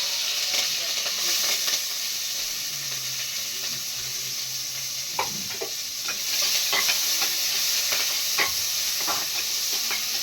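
Onion and curry leaves frying in a hot pan give a steady close sizzle and hiss, with scattered stirring clicks throughout and no talking.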